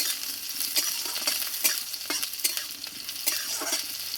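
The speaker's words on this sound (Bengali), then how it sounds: "এবার এইটা একটু ভালো করে ভেজে নেবো পেঁয়াজটাকে" Chopped onions frying in hot oil in a pan, a loud, close, steady sizzle punctuated by repeated spatula scrapes and knocks against the pan as they are stirred, with no speech.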